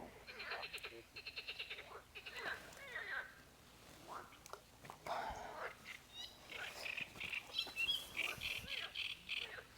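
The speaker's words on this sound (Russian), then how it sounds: "а не жабий хор слушать" A chorus of toads croaks at a lake where people are fishing for crucian carp, calls coming in repeated bursts of rapid pulses that overlap irregularly, with occasional bird chirps.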